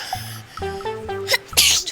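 A child sneezes once, close and loud, a short sharp burst with a quick intake of breath just before it, heard outdoors in a garden.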